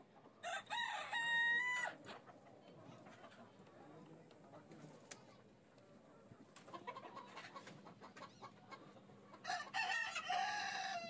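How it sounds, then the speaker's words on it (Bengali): Fayoumi chickens on a poultry farm crow in loud bursts near the start and end, with quieter clucking and bird calls in between over a low, steady background. "যদি সরাসরি মুরগিগুলো দেখেন, অসম্ভব রকমের সুন্দর মুরগি এগুলা।"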